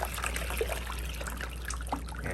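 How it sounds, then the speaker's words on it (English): Hot water trickles and dribbles down a sink drain after cleaning an extractor, a soft continuous flow with small splashes over a low steady hum. "we'll just let that hot water run out down the sink"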